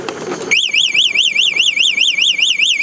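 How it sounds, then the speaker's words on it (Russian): A White Siberia Sneg PRO R 3000W electric quad bike's anti-theft alarm wails in a loud, rapidly warbling siren tone that starts abruptly after a brief noise and keeps pulsing steadily. "Пульт – это сигнализация."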